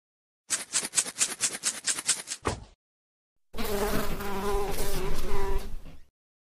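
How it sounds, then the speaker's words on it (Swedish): A bee buzzes in a toddler peekaboo app, first as a rapid pulsing series of buzzy bursts, then after a short silence as a longer, loud continuous buzz. "Bi."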